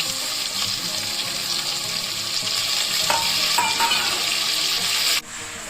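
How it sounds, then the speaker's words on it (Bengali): Prawns fry in a pan with a continuous close, watery sizzle and occasional stirring, the sound cutting off abruptly near the end. "এবার আমি দিচ্ছি চিংড়ি মাছগুলো ভেজে নিচ্ছি।"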